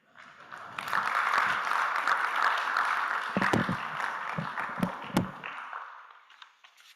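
An audience at a national labour convention applauds in a dense, steady wash of clapping that swells quickly, holds for several seconds with a few louder individual claps, then fades out.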